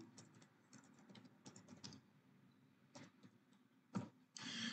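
Keys clatter on a computer keyboard in short quick bursts with brief pauses, close but quiet over faint room noise, ending with a louder rustle.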